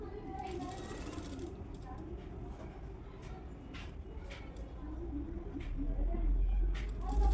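A sewing machine stitches blouse cloth in a fast, steady, fairly faint mechanical whir, with brief clicks and a heavier low rumble building toward the end.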